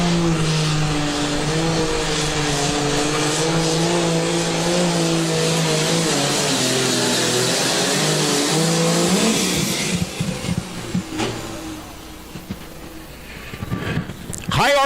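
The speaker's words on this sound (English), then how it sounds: "High RPMs coming right out of the hole for Michael Baker." A tractor-pulling engine at high RPM during a pulling event, a loud sustained harmonic roar for about ten seconds that then cuts out into rougher, fading mechanical noise with crowd-like background.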